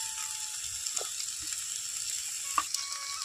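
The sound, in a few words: onions and tomatoes frying in oil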